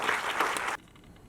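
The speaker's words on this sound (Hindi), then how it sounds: "तालियां।" Audience applause at an album launch event, a brief burst of clapping that stops abruptly, leaving quiet room noise.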